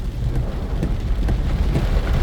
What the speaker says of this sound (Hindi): मूसलाधार बरसात है, एक तरह से थोड़ी सी कम हुई है।